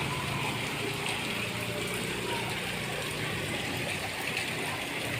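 Rainwater runs through a flooded street in a steady broadband rush with a light patter, constant and close throughout, with no talk.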